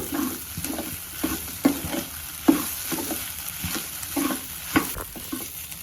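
Kasuri methi and ginger garlic paste fried in a pan for Konkani-style chicken sukha, stirred steadily: a continuous sizzle with a regular rhythm of scraping strokes, close and moderately loud.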